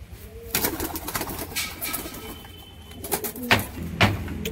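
Giribaj pigeons coo softly in short bursts amid sharp clattering knocks and rustling, fairly close, with no voices.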